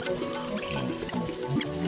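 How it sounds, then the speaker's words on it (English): Water sloshes and drips as soapy hair and a rinse cloth are squeezed out, a continuous close wet squishing and trickling with no talk. "squishing out the soap from my hair and the rinse cloth, and it's full of water to rinse"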